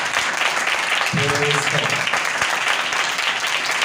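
A church congregation claps loudly and steadily at a Thursday night prayer meeting, a dense continuous roar of hands, while a voice briefly speaks over it.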